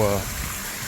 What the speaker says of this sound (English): The creek crossing right here.